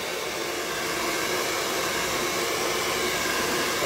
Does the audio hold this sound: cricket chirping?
no